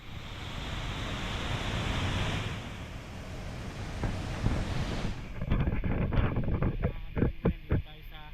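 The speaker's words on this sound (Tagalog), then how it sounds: "Malakas yung tubig." Strong rushing water at Rizal Dam after a typhoon roars continuously with heavy wind buffeting the microphone, then gives way to closer irregular thumps and handling knocks toward the end.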